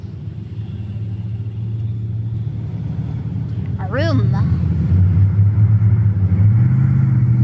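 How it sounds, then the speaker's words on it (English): A car engine in a video game rumbles loudly and steadily, its low drone swelling a little louder partway through while a voice speaks briefly over it. "that sounds like the car is having serious issue"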